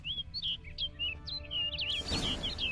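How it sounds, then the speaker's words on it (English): A bird in The Witcher 3: Blood and Wine chirps in a run of quick, bright tweets, fairly close and clear, with a rustling burst of ambient noise near the end and no speech. "Looks like the bird's leading me somewhere."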